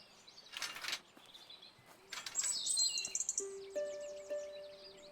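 Bird chirps in a video game, a few bright tweets and short trilling calls rising over a quiet background, then a held tone near the end.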